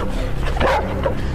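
Dogs in a yard visited by a bear bark and yip loudly and close by, a single sharp burst amid continuous noisy rumble.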